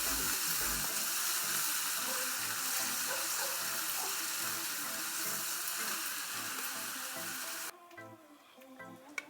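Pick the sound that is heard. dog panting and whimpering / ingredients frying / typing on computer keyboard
ingredients frying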